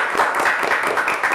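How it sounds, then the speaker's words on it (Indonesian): Applause at a school event for quiz competition winners at SMP Al-Musyawarah, a dense patter of clapping from a small crowd, steady and fairly close, with no talk over it. "Tepuk tangan buat kalian semuanya."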